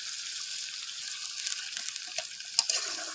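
Eggs being stirred into a simmering egg korma curry in a pan, a steady faint sizzle with soft scraping and light clinks of the spoon, no voices.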